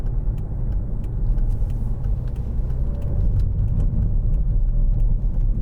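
Steady, moderately loud road rumble of a 2011 Volvo V50 1.6 D2 R-Design diesel estate heard from inside the cabin while driving, a continuous low engine and tyre drone with no talking.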